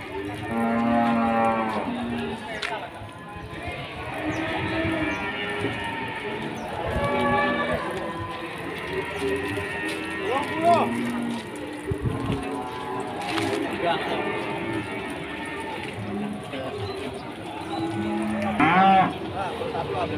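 Limousin cattle moo repeatedly at a livestock market, several long, loud calls overlapping amid a busy background of people talking nearby.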